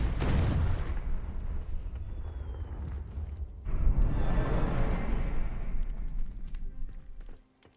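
A Confringo fire spell in Hogwarts Legacy bursts with a loud rushing explosion, followed by a roaring, crackling fiery wash that sustains for several seconds before cutting off abruptly.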